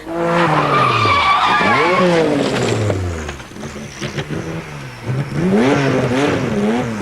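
An old race car on a test track skids and spins off in terminal oversteer into a tight corner on hot tyres, the engine loudly revving up and down with rising and falling pitch before fading into tyre scrub and rumble.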